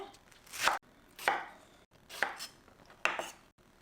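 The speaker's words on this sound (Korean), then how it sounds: "이제 야채 썰어 보도록 하겠습니다." A knife chops chives and vegetables on a cutting board for a crispy chive and chili pancake, four distinct close thuds spaced about a second apart with quiet gaps between.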